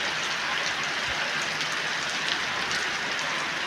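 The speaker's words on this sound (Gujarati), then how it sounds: "હવે વરસાદ ભલે અને જેટલો પડવો હોય એટલો પડે" Steady, dense monsoon downpour in Lilapur village near Halvad, Gujarat, pours down continuously, a broad hiss of countless drops hitting surfaces with no breaks.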